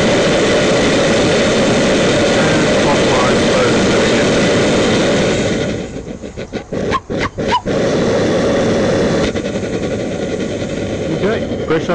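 A gas forge burner jet runs with a loud, steady roaring hiss, briefly interrupted by a few sharp dips and pulses as the needle valve is adjusted, then settling back to a continuous roar.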